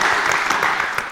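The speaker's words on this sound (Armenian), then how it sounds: "եկեք ծափարեք" A brief, close burst of audience clapping from a studio crowd at an Armenian quiz show, with individual claps faintly distinct in a dense patter.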